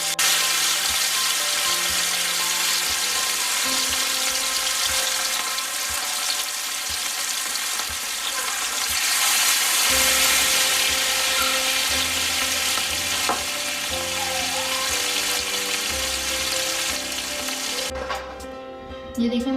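Rahu fish, coated in Lahori masala, frying in hot oil over medium heat, giving off a steady, dense sizzle that runs for the whole stretch beneath continuous background music.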